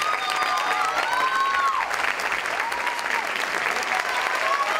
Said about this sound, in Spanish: Les pido un aplauso muy fuerte para cada uno de estos artistas.